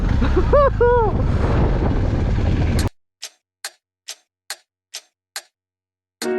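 A clock ticks in sharp, evenly spaced clicks, about seven in a row, alone in near silence after a loud stretch of wind and other noise that includes a brief voice.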